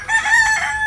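A rooster crows at a Kerala farm where geese are kept, one loud, close call running almost a second with no voices over it.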